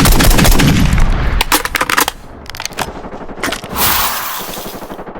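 Heavy automatic gunfire and explosive bursts from the Call of Duty video game, loud and dense, with rapid volleys that pause briefly and then resume in a short firefight.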